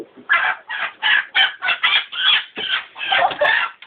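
A hen clucks close by in a rapid series of about a dozen agitated bursts, loud and rhythmic, with no talking.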